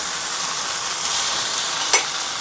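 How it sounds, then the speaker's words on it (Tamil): Mutton liver frying with tomato in a hot pan, a loud steady hiss of sizzling oil close by, with one brief scrape of a spoon near the end. "இப்போ நான் இதில் ஈரலை சேர்த்துக்கிறேங்க."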